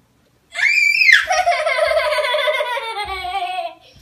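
A baby lets out a loud, high, sustained scream that rises and then trails downward over about three seconds, close and alone.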